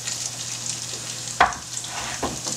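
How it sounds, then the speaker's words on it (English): Onion frying in butter and oil in a pot gives a soft, steady sizzle, broken by a sharp clank of a utensil against the pot partway through and a quieter stir afterward. "I'm going to add my onion into a nice pot that I have some butter and oil in"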